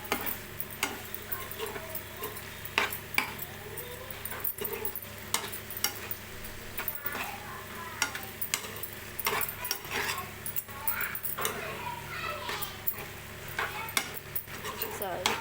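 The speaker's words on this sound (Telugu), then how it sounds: "ఎగ్స్ అయితే ఇందులో వేసుకుందాం ఒకసారి ఇలా మొత్తం కలిపేసుకొని" A spoon scrapes and clinks around a pan as boiled, slit eggs are mixed into a sizzling onion and spice masala, steady stirring with frequent sharp taps over a constant frying hiss.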